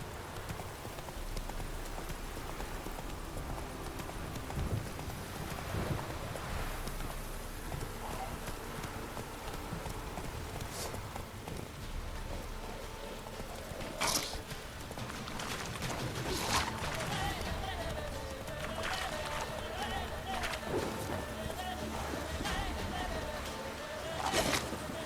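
Geralt's horse Roach galloping in The Witcher 3, steady rhythmic hoofbeats carrying through the whole stretch, with brief voice lines now and then over the hooves.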